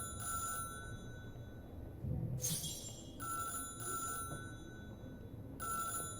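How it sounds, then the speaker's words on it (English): An old telephone rings in the video game Syberia: The World Before, repeated bursts of bright electronic ringing separated by short pauses, steady and fairly quiet, with no one talking. "Phone's ringing."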